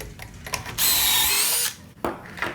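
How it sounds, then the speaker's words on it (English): One loud, close burst of a power drill spinning for about a second, boring a pocket hole in a wooden board, framed by handling clatter and light knocks. "I'm then going to slide down my board and keep drilling."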